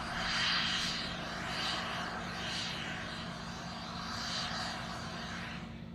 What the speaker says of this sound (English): I can't help but go silent when I hear the venting.